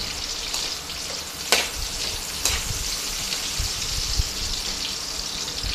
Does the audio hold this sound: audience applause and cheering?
no